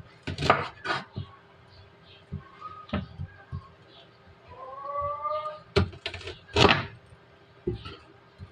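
A knife chops an ear of corn into three pieces on a board for a bulalo lunch, giving several sharp, close thwacks in uneven bursts, with soft speech and a brief tonal sound between the cuts.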